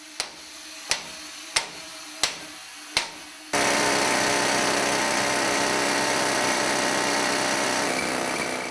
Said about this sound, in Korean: 금맥을 뚫는 진동은 온몸에 고스란히 전해져 오고